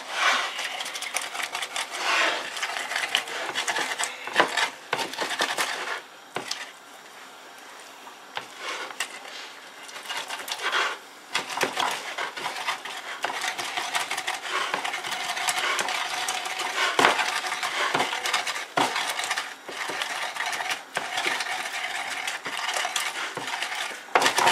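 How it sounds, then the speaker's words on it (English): Onion, pepper and garlic are pounded and ground in a mortar and pestle, giving a dense run of rapid scraping and knocking strikes that are steady and close, with only brief pauses. "I'm going to put pepper in each one, garlic in each one. And then I'm going to grind quickly."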